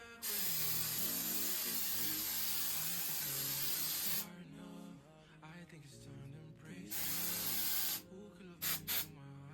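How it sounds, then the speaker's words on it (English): Holding spray misted onto hair from a can, two long steady hisses and a few short final bursts, close and loud, with someone talking in the pauses between sprays. "I'm gonna put my holding spray on"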